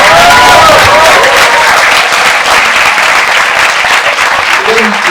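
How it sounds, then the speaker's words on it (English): A large campus audience at a fireside chat gives sustained, loud applause mixed with cheering, a dense continuous roar of clapping close to the microphone for the whole stretch. "So a big cheer for him again."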